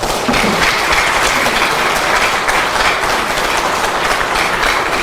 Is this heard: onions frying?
no